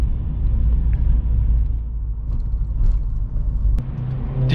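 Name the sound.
Mazda RX8 engine during a downshift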